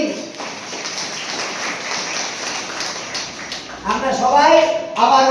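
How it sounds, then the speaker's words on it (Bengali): Audience of ICDS workers at a workshop on special-needs children clapping loudly together, a dense, steady burst of applause that gives way to voices and singing near the end. "একবার জোরে হাততালি দিয়ে মনে করে নিন।"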